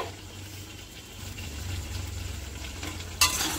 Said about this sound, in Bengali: একটু ভালো করে নাড়াচাড়া দিয়ে 5 মিনিটের জন্য হতে দেবে